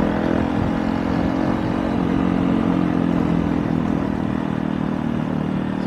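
A Honda Bros 160 motorcycle fitted with a Kadron exhaust runs close by, a loud, steady throaty engine drone that holds without pause, with no talking over it.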